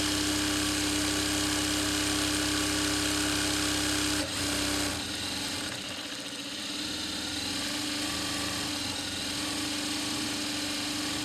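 A sewing machine winding thread onto its bobbin hums in a steady, loud, continuous motorized whir that changes pitch briefly partway through and then settles again, with no talking.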